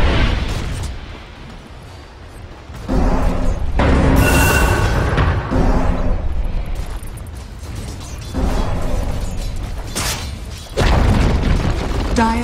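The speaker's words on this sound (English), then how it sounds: "Dire's bottom tower has fallen." A tower collapsing under attack in the Dota 2 video game, heavy booming impacts and crumbling mechanical crashes in repeated loud bursts, with game announcer voice and effects mixed in.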